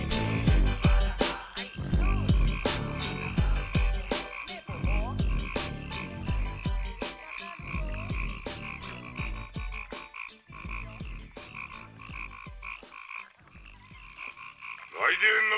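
Frogs croak in rhythmic repeated calls, layered under a rap music track in an OPM hit, with a steady beat and recurring croaks throughout.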